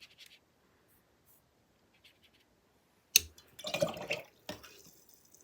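A brush sweeps water off wet ink swatches on paper, giving soft, close scratchy swishes in a couple of short bursts after a near-silent stretch.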